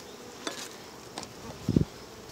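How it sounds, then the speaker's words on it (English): Honey bees hum in a low, steady drone over the frames of an open beehive box during a hive split, faint and continuous, with a few soft clicks and a brief knock near the end. "bees covering, what, maybe six frames up here"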